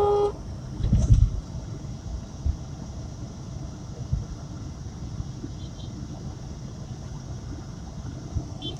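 An RTC bus engine idles in fourth gear with the accelerator released, giving a steady low rumble close by. A brief louder burst comes near the start, and the sound stays even with no speech.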